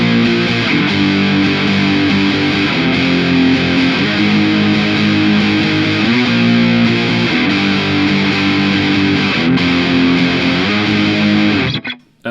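An electric guitar played through a Boss DS-1 distortion pedal gives a dense, buzzing, saturated riff that continues steadily and loudly for several seconds before cutting off abruptly, with no voices.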